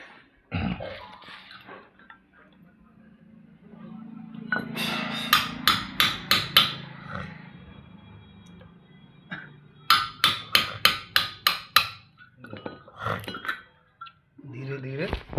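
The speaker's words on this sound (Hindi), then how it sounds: "एक छेनी की सहायता से इस मोटर को काटना है" Steel chisel struck repeatedly with a hammer to cut open the casing of a Tullu pump motor, in two loud bursts of about six sharp metallic clanks each, with scattered knocks and brief talk between.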